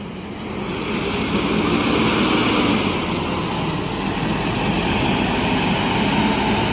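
An ANS intercity bus in AC Milan livery pulls out of a city bus terminal, its heavy engine rumbling loud and steady from start to finish, with no talking.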